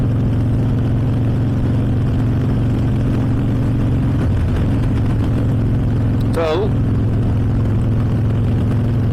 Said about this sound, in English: I hope the mic picks up the exhaust of these budget pipes